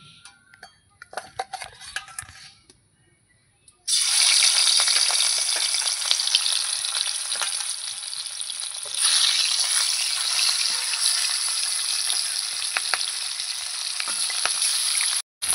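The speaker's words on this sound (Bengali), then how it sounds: "আমি কড়াইতে তেল দিয়ে দিয়েছিলাম, তেলটা গরমও হয়ে গেছে। এবার আমি মাছগুলো দিয়ে দেব।" Rohu fish pieces dropped into hot oil in a wok, bursting into a loud, sustained sizzle after a few quiet seconds of light handling sounds, with occasional utensil clinks and no speech.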